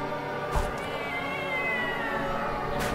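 A cat yowling on a livestream, a long sustained wavering caterwaul, loud and continuous throughout with a couple of short knocks, no talk.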